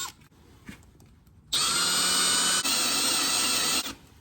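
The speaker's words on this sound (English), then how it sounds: "So, a bunch of spot welds. Gotta drill them out old fashioned." A high-pitched power drill whines steadily for a couple of seconds drilling out spot welds on a car engine mount bracket, briefly dips, then grinds on before stopping, preceded by quiet handling noises.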